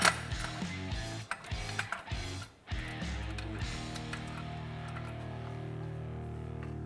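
Primary clutch bolt on a Polaris RZR XP Turbo being tightened, with a series of rapid ratchet clicks in short bursts followed by a steady mechanical whir, heard close up with no speech.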